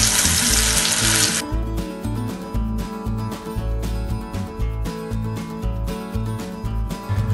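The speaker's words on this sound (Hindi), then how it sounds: "अब इसको डीप फ्राई कर लेंगे।" Marinated chicken pieces deep frying in hot oil give a loud, bright sizzling hiss for the first second or so, then settle into softer bubbling beneath a steady tonal background.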